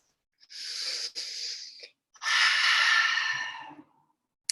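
A deep, calming breath drawn in and then slowly let out, close and clear, with a short airy inhale followed by a long, steady exhale in a quiet room with no talking.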